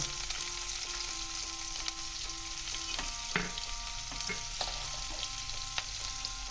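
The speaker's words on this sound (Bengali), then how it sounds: "এবার আমি এই তেলের মধ্যেই আমি এখানে একটা পেঁয়াজ কুচিয়ে নিয়েছি সেটা ভেজে তুলে নেব" Finely chopped onion fries in oil for Bengali doi katla, a soft, steady sizzle with scattered light pops and crackles, close and fairly quiet, with no voices.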